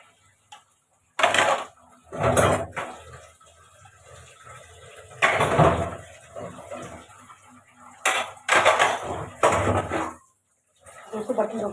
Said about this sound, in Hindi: बर्तन धो के बात करते हैं आपसे